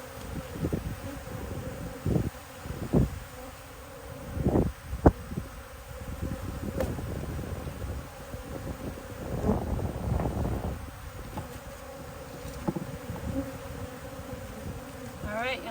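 Honey bees buzz steadily around a bee nuc being installed outdoors, a continuous close hum with wind rustle and occasional handling bumps throughout.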